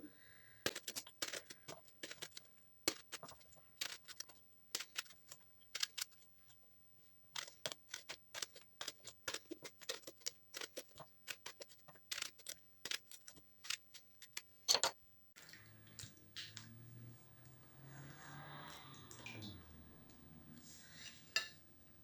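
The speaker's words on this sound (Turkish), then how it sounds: "Bakın şöyle hemen hemen bir parmak eninde patlıcanlarımızı doğruyorum." A knife taps sharply against a cutting board slicing eggplant into finger-thick rings, a steady series of close, quiet chops, followed by softer rustling and handling sounds.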